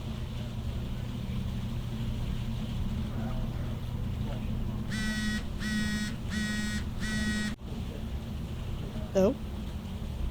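Phone ringing in the game Morph Girl: four evenly spaced electronic ring bursts over a low ambient hum, followed by a short rising chirp.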